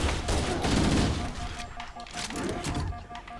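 Rocket launcher fire in Halo: Combat Evolved, a heavy burst of booming blasts and explosive rumble with a chaotic layer of combat gunfire, loud and close through the whole stretch.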